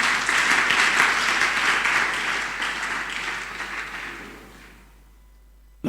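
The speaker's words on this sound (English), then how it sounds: "Another round of applause" Loud, dense audience applause at a closing ceremony holds steady for several seconds, then fades away into near silence.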